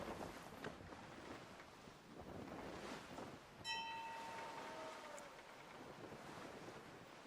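Wind and rolling ocean swell on the open Atlantic at sea in the video game Assassin's Creed 3, a steady soft wash with gusts, and a brief ringing tone partway through, no talking.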